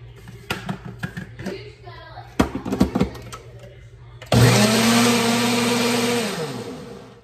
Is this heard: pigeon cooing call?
no